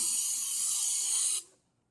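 A Jura X8 coffee machine's steam wand hisses loudly and steadily for about a second and a half, then cuts off abruptly into silence.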